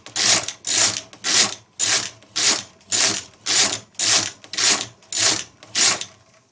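A knitting machine's carriage is run across in rows, ten rhythmic rasping sweeps of roughly half a second each, close and loud, separated by short gaps.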